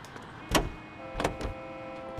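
A car door shutting in LA Noire as a detective takes the wheel: a few short thumps and clunks over a low engine idle, with no talk.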